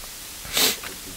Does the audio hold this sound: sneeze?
yes